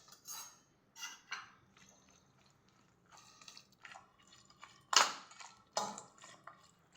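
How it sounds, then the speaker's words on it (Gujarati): A spoon scrapes and clinks against a dish while farali bhel, a dry fasting-style snack mix with red chili powder and chutney, is stirred, giving irregular near taps and rattles with sharper knocks toward the end. "હવે બધું બરાબર મિક્સ કરી લેશું"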